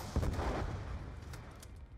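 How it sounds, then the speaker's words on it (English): An RPG launched in the Call of Duty Black Ops 2 campaign gives a heavy low thump and whoosh, followed by a rumbling tail with scattered distant blasts, fairly faint overall. "Oh, an RPG."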